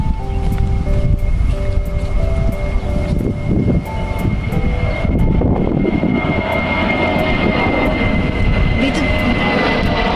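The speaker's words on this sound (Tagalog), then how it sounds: "Dito na naman dumadaan ng mga eroplano." Airplanes fly low over a residential community at Al Raha Beach in Abu Dhabi, a loud and continuous jet roar that swells and fills the whole stretch, heard outdoors with people talking faintly.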